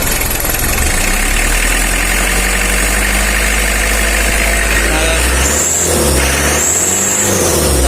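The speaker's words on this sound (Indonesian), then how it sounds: "Ada asapnya, ada begitu, ada suaranya kasar guys." A rough-running Mitsubishi L300 engine idles close by, a steady loud rumble with an uneven, harsh texture and brief faint shifts in pitch near the end.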